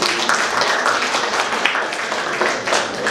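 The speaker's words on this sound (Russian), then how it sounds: "А ваши аплодисменты." An audience at an art exhibition opening applauds steadily, a dense, even patter of many hands at moderate volume with no break for the whole stretch.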